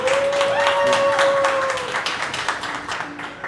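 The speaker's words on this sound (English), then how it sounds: "So y'all please give a round of applause for Mario." An event audience gives a round of applause, steady scattered clapping from many hands that gradually thins out, with a sustained whistle-like tone and some background voices mixed in.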